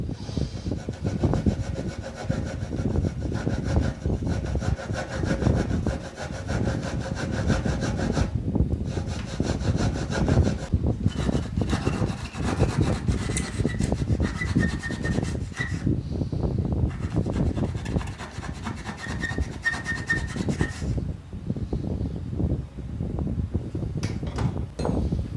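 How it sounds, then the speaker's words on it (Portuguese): A hand saw rasps through wood in steady back-and-forth strokes, loud and close, with brief pauses between runs of cutting. "Agora eu vou fazer um rasgo, um corte daqui para cá com o serrote."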